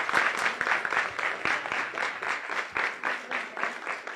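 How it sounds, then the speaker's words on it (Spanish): Audience applause backstage at a fashion show and event company launch, a steady wash of many hands clapping with pulsing swells over about four seconds, moderately close. "un aplauso"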